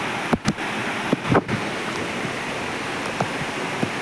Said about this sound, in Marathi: पाऊस पडायला लागला आहे